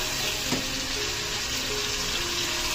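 Ginger garlic paste sizzles and fries steadily in a pan for an apple snail dish, a continuous close crackling hiss with no talking.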